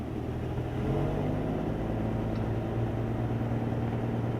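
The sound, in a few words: 1976 Ford F-150 truck driving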